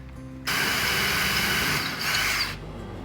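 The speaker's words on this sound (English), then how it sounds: "just take the drill and go through that." A power drill runs through a wooden bed frame in one sustained, loud whirring burst lasting about two seconds, with a slight pitch dip near the end before it stops.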